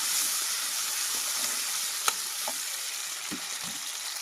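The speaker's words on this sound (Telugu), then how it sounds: "టమాటాలు కూడా బాగా ఫ్రై చేసుకున్నాము" Onions and tomatoes fry in a pan with curry leaves, a continuous close sizzle with a few sharp ticks and scrapes as they are stirred.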